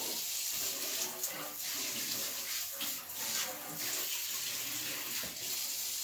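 Water runs steadily from a kitchen sink tap while cucumbers are being prepared for pickling and canning, a continuous broadband hiss with brief surges and clinks of handling.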